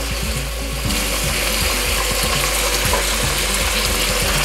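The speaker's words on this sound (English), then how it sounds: "I'm gonna turn the heat up a little bit on the pork chops because I do want a nice sear on the outside." Pork chops searing in a hot pan on turned-up heat, a steady close sizzle and crackle running throughout alongside a rhythmic, patterned rattle.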